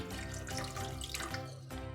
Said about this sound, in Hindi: चावलों में पानी ऐड करें तो इतना पानी ऐड कीजिएगा कि 1/2 इंच के हिसाब से आपका पानी हो